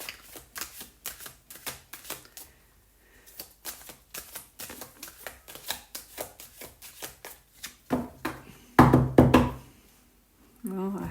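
A deck of cards is shuffled for a reading with rapid riffling and tapping in quick bursts, close up, then a louder clatter near the end, under occasional speech.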